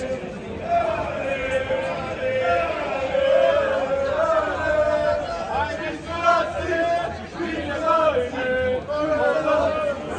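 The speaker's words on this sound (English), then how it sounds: "we're going to join the crowd here at this Irish pub" Crowd in an Irish pub watching an England vs Switzerland football quarterfinal, a constant hubbub of overlapping chatter with some voices standing out near the listener.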